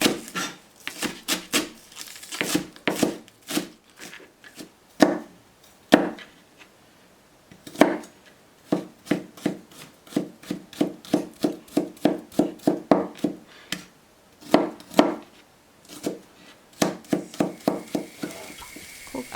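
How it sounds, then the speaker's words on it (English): A knife chops spring onions and garlic on a wooden cutting board in a home kitchen. The strikes are close and sharp, coming in rapid rhythmic bursts separated by short pauses, with no talking. "So I will chop onions and garlic."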